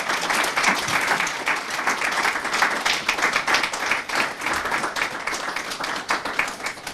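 Audience applause for a speaker at a Vedic Academy event: sustained, dense clapping from a large gathering, loud and even throughout, with individual claps crackling through the mass of sound.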